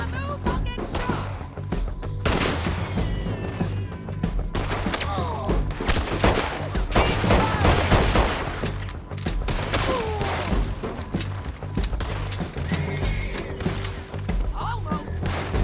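Video game gunfire crackles in dense, continuous bursts of rapid shots and thuds, loud and close, heaviest in the middle, with a voice speaking over it.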